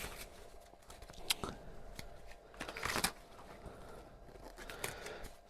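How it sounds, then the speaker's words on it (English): Tarot-style cards riffle and slap in a few quick bursts, close and crisp, with soft shuffling between them and no voices. "let's have a quick shuffle of your card for today"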